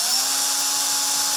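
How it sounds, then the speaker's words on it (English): A power driver whirring steadily at a high pitch to back a screw out of a punctured tire, one continuous loud burst with no pauses. "I'll try and screw it out with a screwdriver"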